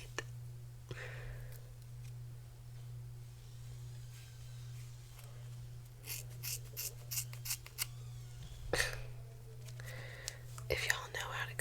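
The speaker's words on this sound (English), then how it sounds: "These are safety scissors." Soft, close snipping of safety scissors through hair, a few quick cuts in clusters over a steady low hum, with faint whispering.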